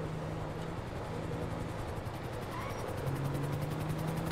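A helicopter circles overhead in a military combat video game, a steady rotor drone with a rumbling low hum that swells slightly toward the end, heard over continuous background noise.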